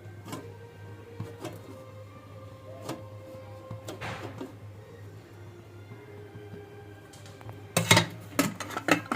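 A lid set on a cooking pot while making chicken mandi at home, with scattered sharp metallic clinks and taps over a low steady hum, louder clattering near the end, no talk.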